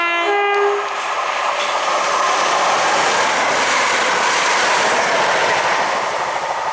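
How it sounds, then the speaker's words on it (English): A Class 170 diesel unit, running from Aberdeen to Edinburgh Waverley, passes non-stop at line speed through South Gyle station. A brief horn blast opens a loud, close, continuous roar of the train rushing by. "Now about to pass through is a Class 170 running 1 Bravo 84 from Aberdeen to Edinburgh Waverly"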